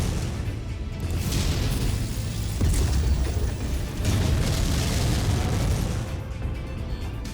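Gauss rifle shots and explosions in MechWarrior 5, with booming bursts and rumbling blasts that swell and fade over a dense mechanical din.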